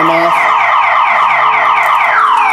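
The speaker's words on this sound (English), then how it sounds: "just a fairly light wrap sets the alarm off" A Hummer's aftermarket Viper car alarm blares after a light tap on the vehicle, a loud, continuous electronic siren cycling through rapid warbling tones up close, with no talking.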